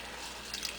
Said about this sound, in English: So now I'm going to add milk to it.